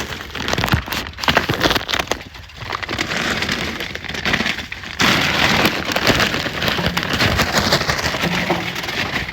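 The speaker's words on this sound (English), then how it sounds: "It rained out here, and it's still raining." Steady rain patters hard on a surface nearby, a dense continuous hiss with scattered drops and no voices.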